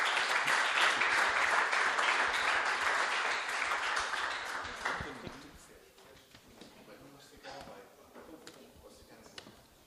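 An audience at a church gathering in Lapa applauds to welcome pastor Mário Rui Boto, a loud burst of clapping that fades after about five seconds into scattered claps while a voice speaks.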